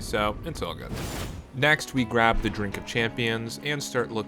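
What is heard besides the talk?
No everyday noise stands out behind the speech.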